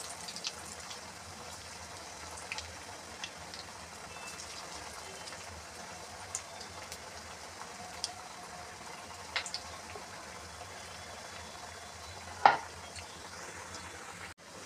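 Layered aloo vadi fry in hot oil over a low flame, a soft, steady sizzle with scattered faint crackles and one sharper clink near the end.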